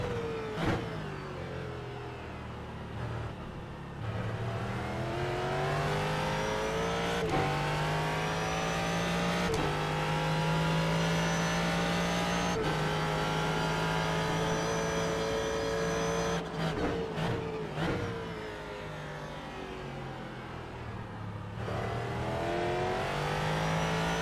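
A Ford GT3 race car at Daytona in iRacing roars continuously up close, its engine pitch rising and falling through gear changes and corners, with no talk over it.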